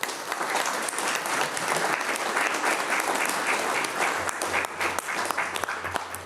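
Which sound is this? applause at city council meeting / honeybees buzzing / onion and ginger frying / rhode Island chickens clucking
applause at city council meeting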